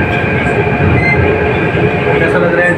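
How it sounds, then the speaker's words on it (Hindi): A Jaipur Metro train rides along with a steady, loud rumble of wheels and car noise heard from inside the carriage, continuous and even throughout. "आप देखते रहिए हमारे जयपुर मेट्रो का सफ़र"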